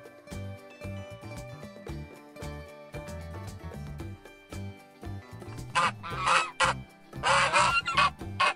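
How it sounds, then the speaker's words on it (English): Geese honk in a run of repeated nasal calls, close and clear, growing busier and louder toward the end as several birds call over one another, with no talking. "Goose."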